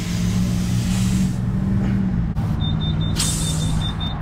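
Compressed air pumped into a lifted truck's tire up to 41 PSI, a steady loud rushing hiss with a small break partway through, then an electronic pump beeping at regular intervals.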